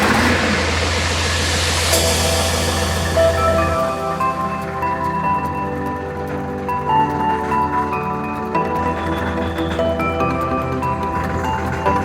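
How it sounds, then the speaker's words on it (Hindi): A tractor engine drones steadily nearby as the tractor is driven down, its harmonic hum shifting in pitch and level partway through. "ये है अपना ट्रैक्टर, अब इसको हम यहाँ से नीचे उतारेंगे"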